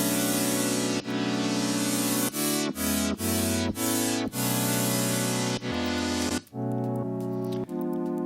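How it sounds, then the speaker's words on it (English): A clean synthesizer saw wave plays a series of sustained notes and chords, bright and buzzy, with short gaps between held tones, loud and alone. "It's just the cleanest type of saw sound you can imagine"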